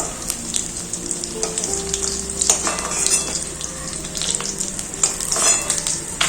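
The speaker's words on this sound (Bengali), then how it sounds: "মাছগুলো ভাজা হয়ে গেল এরপর তুলে নেব" Pieces of rui fish frying in hot oil for a thin fish curry, a constant sizzle broken by sharp clinks and scrapes of a utensil against the pan, close and without talk.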